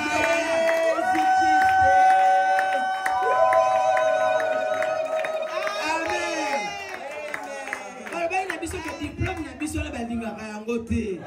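A church congregation at a Sunday worship service in Sherbrooke, Canada cheers and shouts in acclaim, a lively crowd of voices rising and falling, with a leading voice calling out over the noise.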